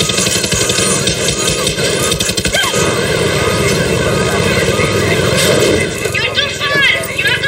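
Far Cry 6 helicopter in flight, its loud rotor and engine drone droning steadily throughout while people talk over it.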